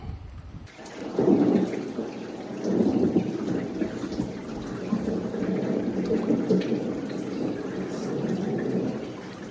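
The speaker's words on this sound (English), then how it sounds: "There's a little bit of rain, but I'm taking shelter under a bridge." Rolling thunder rumbles on and off over a steady patter of light rain, heard from shelter under a bridge, with no voices.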